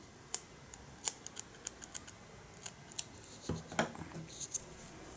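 Scissors snip through knitting yarn (wool) while working a popcorn-stitch baby sweater on two needles, giving a run of quiet, close metallic clicks and cuts at an uneven pace with no talking.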